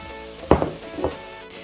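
Ginger sizzling in a hot stir-fry pan for spicy eggplant, with a couple of short bursts of crackling frying over a low, steady background hiss.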